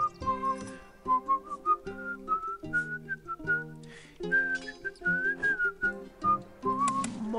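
A melodic whistled tune from the Stronghold video game soundtrack, carried by a clear, close, steady whistle over sustained backing chords, with no voices.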